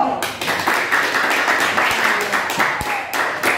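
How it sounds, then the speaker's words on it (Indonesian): A classroom group claps briefly, a short burst of close, uneven hand claps with a few sharper individual slaps, fairly loud. "Tepuk tangan dulu."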